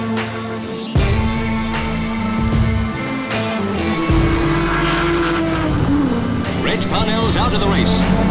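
Collins's Aston Martin racing car overtakes an HRG at Goodwood, engine noise loud and continuous with a rising pass, under a commentator's voice throughout.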